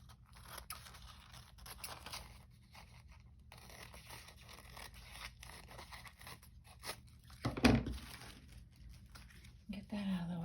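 Scissors cut through paper journaling cards at close range, giving a series of short crisp snips and rustles, with one louder crunching cut near the end, while someone talks quietly in between.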